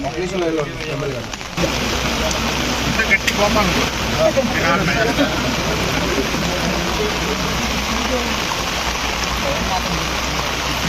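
Steady, dense heavy evening rain falls throughout, a constant hiss of water with voices murmuring faintly beneath it.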